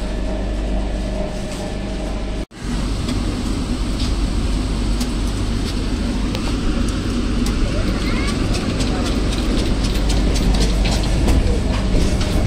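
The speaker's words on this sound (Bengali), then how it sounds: "ট্রেন লেট বলে দাঁড়ালো আর ছাড়লো শুধু" A Vande Bharat Express pulls out of a station stop, a steady loud rumble of wheels and carriage noise that builds slightly after a brief break, with faint rhythmic clicks over the track.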